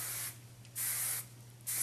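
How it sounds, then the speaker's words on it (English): Medium hold hairspray is sprayed onto curls in three short hissing bursts, close by, with a faint steady hum underneath. "Take your medium hold hairspray,"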